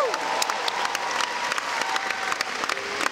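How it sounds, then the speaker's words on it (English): Crowd applause with some cheering at the Super Dog Show at the CNE, given for young Pokemon players who helped on stage. Dense, steady clapping runs throughout from a sizable audience at moderate loudness, with a short whistle-like tone at the start. "How about one more round of applause for our Pokemon players?"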